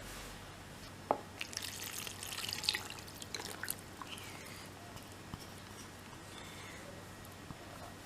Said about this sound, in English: it's time to add the water and sugar mixture